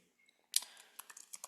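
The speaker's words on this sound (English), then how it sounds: "Got to get used to using my magic keyboard here, which I do love" Typing on an Apple Magic Keyboard: a quick burst of light, crisp key clicks at an uneven rhythm, close and fairly quiet.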